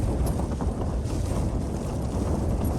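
Strong wind above 40 mph roars and buffets the microphone continuously on a mountain summit camp, a loud, full rushing noise with no pauses and no voices.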